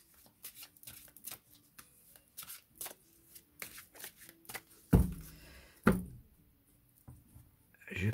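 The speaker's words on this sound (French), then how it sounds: "Je bats les cartes." Tarot cards being shuffled by hand: a run of quick, soft riffling flicks and slides at close range, with a few louder card-slapping bursts toward the end and no talking over it.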